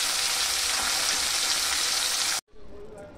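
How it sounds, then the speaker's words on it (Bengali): Fish frying in oil in a pan, a loud continuous broadband sizzle that cuts off abruptly near the end, leaving a quieter, softer sizzle. "এই মাছ দুটো আমি ভেজে নেব।"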